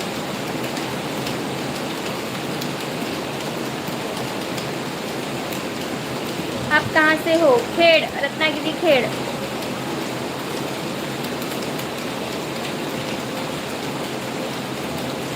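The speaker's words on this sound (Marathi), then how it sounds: "खूपच पाऊस चालू आहे" Heavy rain pours steadily as an unbroken, dense wash of noise, with a short exchange between voices partway through.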